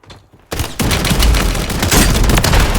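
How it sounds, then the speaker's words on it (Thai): Rapid, loud shotgun blasts fire in a Call of Duty Warzone match, coming as a dense, sustained volley after a brief quieter moment at the start. "ไอ้ปืนลูกซองกระบอกเนี้ย ยิงหลายนัดอยู่เหมือนกันครับ"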